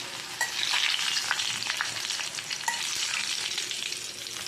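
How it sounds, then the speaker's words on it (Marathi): Mustard and fenugreek seeds frying in hot oil for a tempering, a dense crackling sizzle with scattered pops and light stirring, close and steady. "तेल गरम केलेलं आहे मी, याच्यामध्ये मोहरी आणि मेथी टाकूया"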